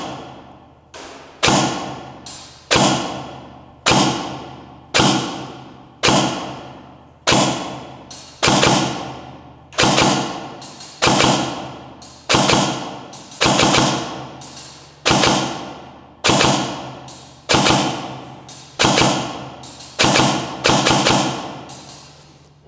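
Begadi Sport Mod 5 A7 PDW airsoft SMG test-fired outdoors at a 40 m range: a steady run of about twenty sharp, evenly spaced single shots, each a loud close thump with a short decaying tail, no talking over them.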